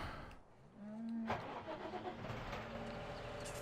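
A tractor engine cranks and catches in the Farming Simulator game, a short whirring start rising into a steady mid-pitched running drone.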